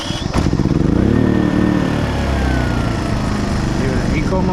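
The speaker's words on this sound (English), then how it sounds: "start the generator." A Genmax GM7250 generator cranks and fires up, settling into a loud, steady engine drone heard from close by with no load.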